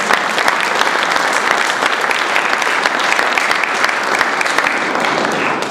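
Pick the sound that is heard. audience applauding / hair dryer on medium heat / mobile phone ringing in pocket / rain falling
audience applauding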